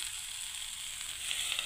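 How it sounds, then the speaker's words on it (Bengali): Cashews, raisins and peanuts frying in a pan, a soft, even sizzle heard up close for a brief moment without any voices. "আর এটাতে ভাজাটা হচ্ছে বন্ধুরা।"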